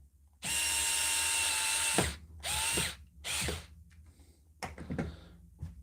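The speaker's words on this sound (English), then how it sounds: "I think the Parkside Performance drill's decent" A Parkside Performance cordless power drill whirs loudly for about a second and a half, then gives two shorter bursts, followed by faint clicks and rattles.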